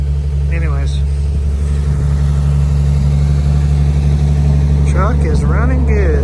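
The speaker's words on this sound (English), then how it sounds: "truck is running good" A 1953 Chevy truck with a 6-volt system idles after a cold start, a loud, steady low rumble held close to the microphone throughout while people talk briefly over it at the beginning and again near the end.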